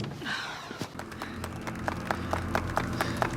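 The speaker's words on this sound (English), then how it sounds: "they're giving her the rap clap" A film crew on set breaks into applause, a quiet scatter of claps picking up into steady clapping, with faint murmuring in the background.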